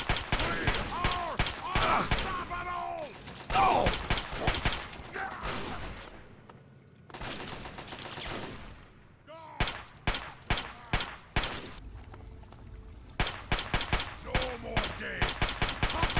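Gunfire in the video game Fallout 3 rings out in rapid, sharp volleys, bursts of automatic fire separated by short lulls, loud and close throughout.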